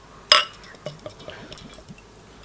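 A bottle of Beann Gulban beer from The White Hag Brewery clinks against a glass. Brief liquid pouring follows, with a few soft gurgles and glugs nearby, and nobody speaks.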